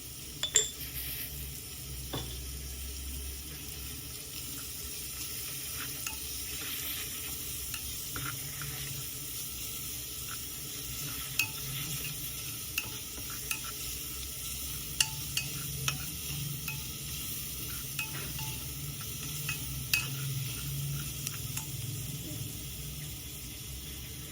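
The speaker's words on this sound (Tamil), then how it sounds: "சால்ட்டு கொஞ்சம் போட்டு வதக்கணும்" Mutton and cabbage being sautéed with salt in a pan, a soft continuous sizzle under scattered light scraping and clinks of a spoon against the metal, steady and moderately quiet throughout.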